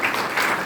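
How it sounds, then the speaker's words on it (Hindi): Brief, steady crowd clapping from a seminar audience at a college in Haryana, close and dense, lasting well under a second. "इसके लिए भी आप ताली बजा सकते हैं।"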